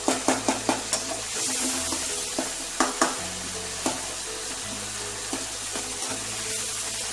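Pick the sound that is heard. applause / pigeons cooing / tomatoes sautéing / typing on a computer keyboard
tomatoes sautéing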